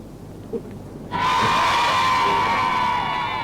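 A 1970s Glasgow crowd bursts into loud cheering and shouting after a quiet moment, sustained and dense, with whistles and high voices carrying over the roar.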